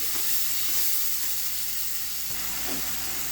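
Tomato masala frying in a pan, heard as a continuous soft sizzle and steamy hiss with a couple of faint stirring scrapes, close by and without talking.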